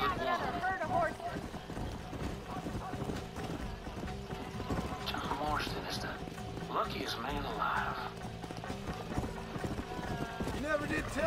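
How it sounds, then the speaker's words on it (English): Steady clip-clop of a herd of horses galloping in the video game Red Dead Redemption, with music and someone talking over it throughout. "Herd of horses."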